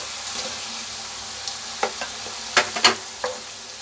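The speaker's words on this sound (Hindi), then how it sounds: "टमाटर ऐड करेंगे अब हम" Tomatoes tipped into onion and garlic frying in a pan for palak paneer give a steady close sizzle, broken by several sharp spoon scrapes and stirring clatters in the second half.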